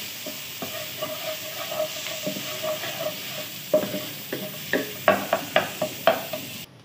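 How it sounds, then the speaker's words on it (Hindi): Crushed garlic and rice fry in a pan with a steady sizzle, while a utensil stirs and scrapes in short, regular strokes that grow louder toward the end, with no talking. "सबसे पहले हम राइस को फ्राई कर रहे हैं। अब हम ये कुटा हुआ लहसुन इसमें शामिल करेंगे।"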